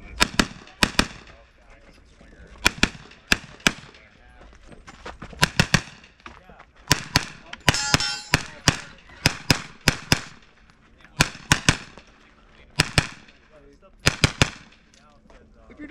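A pistol caliber carbine fires at a shooting competition stage in sharp close bursts, some single shots and some quick pairs. The shooting breaks off in short pauses between strings, and there is low activity in the background.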